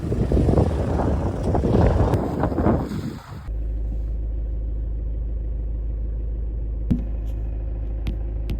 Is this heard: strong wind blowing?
yes